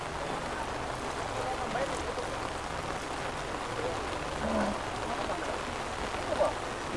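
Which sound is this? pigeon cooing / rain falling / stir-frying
rain falling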